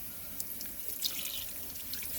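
Tap water pours steadily into a cooking pot over raw chicken thighs for chicken and dumplings, a continuous bright splashing hiss close to the listener, with no talk.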